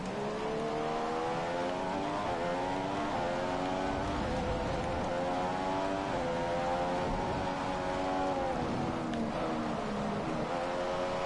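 An F1 2015 race car on track in the video game, its engine droning loud and continuous with rising and falling pitch as it accelerates and shifts.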